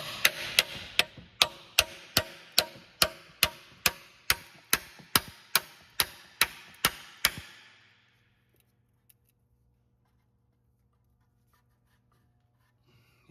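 A sharpened pry bar works around the glued-on oil pan of a 2008-2014 Dodge Avenger 3.6L V6, giving about fifteen sharp, evenly spaced taps or strikes over seven seconds, then near silence with a faint low hum.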